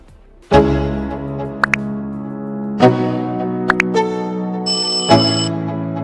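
Notification bell sound effect: a series of bright, ringing chimes that decay slowly. A higher, steady tone enters near the end. Clear and close with no talking.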